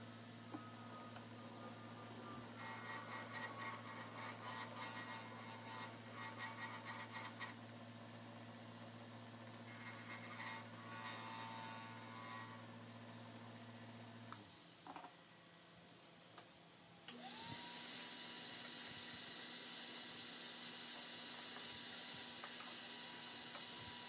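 A wood lathe turning acrylic and wood pens hums with a steady motor drone while light tool passes add soft scraping bursts, then the tone briefly drops and restarts at a higher whine.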